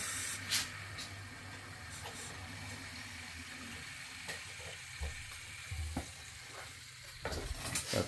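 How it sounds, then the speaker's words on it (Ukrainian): A boiler's circulation pump runs with a low steady hum while trapped air escapes from the heating system in a soft, continuous hiss, with a few faint clicks and a brief louder bump near the end. "Зараз ми бачите скрили температуру і запрацював наш насос. Пішло повітрячко."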